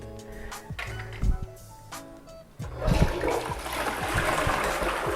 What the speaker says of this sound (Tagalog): malakas yung pressure ng flush